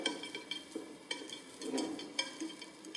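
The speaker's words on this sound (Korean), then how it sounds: "자, 강불에서 볶겠습니다." Salted zucchini is stir-fried in oil over high heat, producing a faint, soft sizzle broken by irregular light scraping and stirring knocks against the pan, with no talk.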